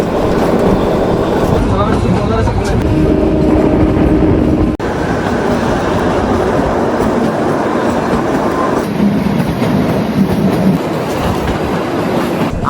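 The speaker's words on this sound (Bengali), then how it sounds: "একদম রাইট টাইমে আমাদের ট্রেন ছেড়ে দিল কালকা রেলওয়ে স্টেশন থেকে" A Kalka–Shimla toy train pulling out of Kalka station, with loud steady rumbling and rhythmic clickety-clack of wheels heard from on board, and some voices in the background.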